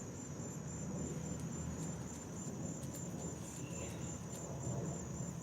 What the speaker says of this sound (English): Wow, the crickets. Do you hear the crickets?